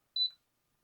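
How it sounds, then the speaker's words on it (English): A small 36-inch wooden ceiling fan gives a single short, high electronic beep when a button on its remote control is pressed, clean and isolated in silence. "press it, you hear a beep, and the fan starts"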